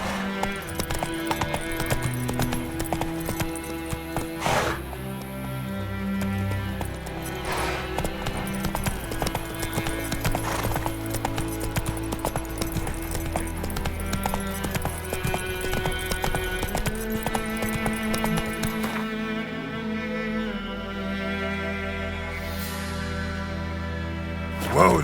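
Roach the horse gallops in The Witcher 3, a steady rapid clip-clop of hooves running under layered game music, with an occasional whinny and a brief shout to the horse.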